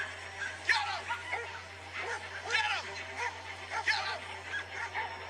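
Dogs, two Labradors and a small Chihuahua, give repeated yappy barks and whimpers in quick irregular bursts at moderate distance, with people talking over them.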